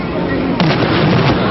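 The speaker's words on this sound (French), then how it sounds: "le coup de canon d'arrivée libérait équipage et spectateurs" A cannon fires to mark the finish of a sailing regatta: one sharp boom about midway, set against a steady background rumble.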